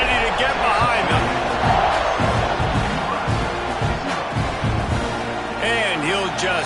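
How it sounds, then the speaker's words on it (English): Football stadium crowd at a Nebraska Cornhuskers game roars and cheers continuously before a kickoff, a dense loud wash of voices with whistles, under a commentator's talk. "this crowd now ready to get behind them"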